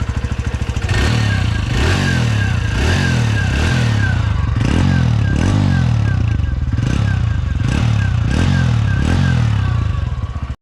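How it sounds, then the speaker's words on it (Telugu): A TVS Radeon 110cc motorcycle engine idles close by with a loud, thumping exhaust note, its rhythmic pulses steady, with faint rattling clatter over the beat. "ముందుగా అయితే మాత్రం ఒకసారి ఇంజన్ బీటింగ్ అయితే వినండి"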